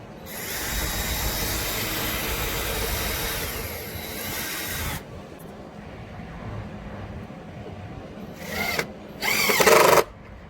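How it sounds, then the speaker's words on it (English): A power drill whirs steadily for several seconds while pre-drilling wood, stops, then gives two short, loud bursts as it drives a screw in, with a brief ratcheting sound between. "When you pre-drill the hole, you don't have to wait."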